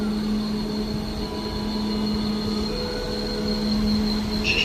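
A passenger train pulls into a station platform in Poznan, giving a steady rolling rumble with a sustained high wheel squeal and tonal hum, moderately close and alone.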